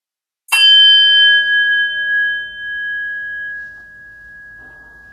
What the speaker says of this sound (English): I will ring the bell once, ending our second round of meditation